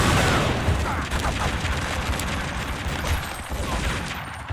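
Dense, continuous rapid gunfire from the video game Tomb Raider: Legend, loud and sustained across the whole stretch as overlapping bursts with booming impacts.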